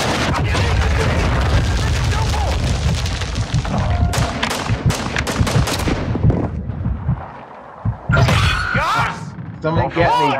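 Heavy gunfire in Call of Duty DMZ: dense, loud bursts and booming shots through the first half, then scattered sharp cracks with pauses, mixed with voices talking.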